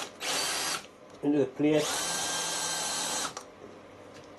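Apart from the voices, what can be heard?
power drill drilling holes in steel plate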